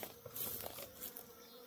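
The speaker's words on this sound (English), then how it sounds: "we have a lot of bees over here by the tractor." Bees buzz around a Layens hive near a tractor outdoors, a faint steady hum with a few louder passes as insects fly close to the microphone.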